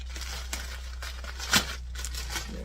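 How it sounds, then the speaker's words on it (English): Plastic bag being handled around pie crust dough, soft rustling and crinkling close by with one sharper crackle partway through, over a low steady hum. "I'll put it in a plastic bag because I already tossed out the other thing."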